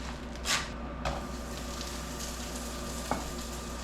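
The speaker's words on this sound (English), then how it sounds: "Salt pork goes in. Just let that render down." Salt pork renders in a pan with a constant soft sizzle and crackle, quiet and close, broken by a few sharp clicks and knocks of utensils.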